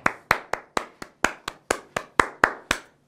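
Hand claps in a guitar trial class, eleven sharp, evenly spaced claps sounding alone and fairly close, a steady rhythm keeping time.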